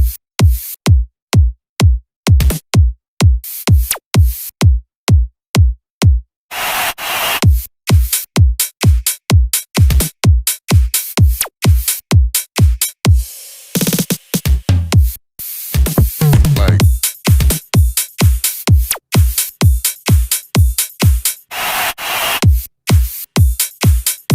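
Loud electronic dance drums with a kick and claps and swept effects, pounding in a fast steady four-on-the-floor pattern that briefly drops out for a riser before slamming back in, with no talk.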